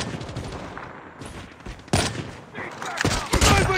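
Several sharp bolt-action sniper rifle gunshots from the SP-R 208 in Call of Duty Mobile, fired singly with pauses between them, loud and close, with faint game sounds in the background.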